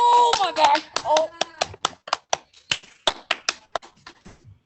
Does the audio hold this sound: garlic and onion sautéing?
no